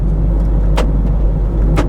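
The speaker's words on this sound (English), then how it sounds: "Central locking works." Two sharp mechanical clunks a second apart from the central door locks of a Citroen Berlingo van, heard from inside over a loud, steady engine idle.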